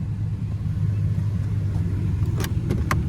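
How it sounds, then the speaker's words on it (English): A 2005 GMC Canyon SLE with the 3.5 engine and about 236,000 miles idles steadily, its exhaust giving a low, even rumble with a few brief clicks near the end. "There's the exhaust."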